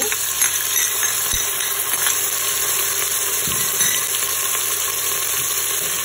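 Onions fry in oil inside a Cookeo multicooker with a loud, continuous sizzle, broken by a few knocks and scrapes from stirring.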